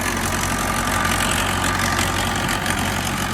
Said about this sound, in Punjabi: ਦੇਖੋ ਟਰੈਕਟਰ ਆਰਾਮ ਨਾਲ ਫਿਰ ਰਿਹਾ